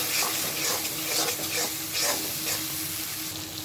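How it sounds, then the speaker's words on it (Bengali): Spice paste of onion, ginger, garlic, turmeric, coriander, chili and cumin frying in a pan while being stirred, a loud, steady hiss and sizzle with faint rhythmic stirring swells, close by, with no talking. "তখন মশলাটা আমি খুব ভালোভাবে কষিয়ে নিয়েছি"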